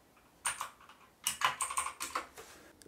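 Quick keystrokes on an inexpensive mechanical keyboard with a Raspberry Pi 400 built inside, several separate bursts of crisp clicky taps, close and fairly quiet, with no talking.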